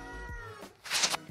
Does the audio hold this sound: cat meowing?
yes